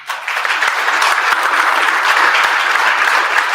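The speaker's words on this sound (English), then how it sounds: "Round of applause for his father, if you could." Applause at a Pennsauken Township Committee meeting honoring a former town chief, a dense, loud, steady roar of many hands clapping that continues throughout.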